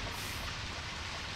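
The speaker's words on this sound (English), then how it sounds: "Well, it is definitely raining." Steady rain pours in the video game Deadly Premonition Origins, a dense, even hiss that fills the short stretch with no voices.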